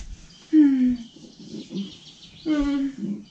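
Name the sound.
birds chirping in a children's fairy show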